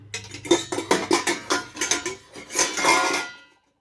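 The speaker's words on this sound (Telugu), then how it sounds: "ఇదిగో మూత తీసాను మూత తీసి ఇంకా లోపల ఉంటుంది కదా" A metal lid comes off a cooking pot used to make junnu milk cheese, giving a run of clanking metallic knocks and scrapes at close range, then a brief hiss before silence.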